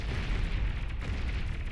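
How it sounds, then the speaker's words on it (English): A steady, rumbling roar of overlapping explosions rolls on as a crowd of video game units loses its shields, a dense, continuous wash with no single blast standing out. "a huge mess of explosions there as all of those guys lose their shields"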